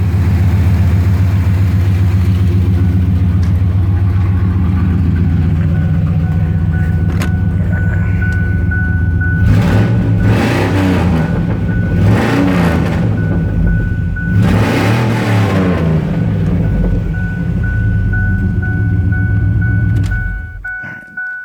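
A 1995 Ford Ranger with a swapped-in 5.0 V8 from a donor vehicle with about 120,000 miles, idling loud and steady, then revved hard three times in quick bursts before settling and cutting off near the end.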